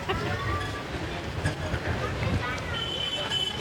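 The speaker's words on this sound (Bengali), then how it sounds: "হাওয়া কিন্তু বেশ ভালোই দিচ্ছে" Sea breeze blowing near the beach in Puri, heard as a steady, loud broadband rush and buffeting throughout, with a voice speaking over it.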